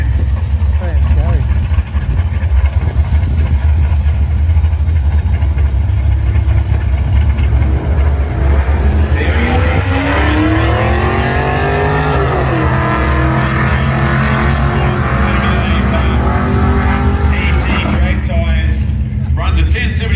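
Ford XT Falcon with a 6-litre engine at a drag strip, a loud throbbing idle and rumble that swells into a rising roar as the car moves off, under continuous commentary.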